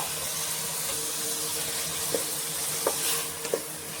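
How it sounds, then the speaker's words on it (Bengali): Garlic and thinly sliced tomatoes fry in a pan with a constant bubbling hiss. A few soft clicks and taps from stirring stand out toward the end. "রসুনটা একটু ভালো করে ভেজে নেব যাতে কাঁচা গন্ধটা চলে যায়"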